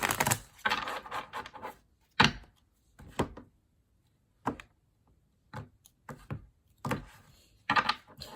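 A deck of tarot cards is shuffled by hand in quiet bursts of soft riffling and snapping, separated by short silences, close and faint.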